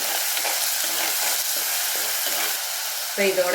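Ground small onions (shallots) sauté on low flame for fish curry, giving a loud, steady sizzle close up with light stirring, and a brief voice near the end.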